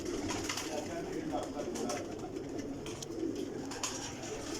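Breeding pigeons coo softly in a loft, a continuous low murmur of overlapping calls under someone speaking.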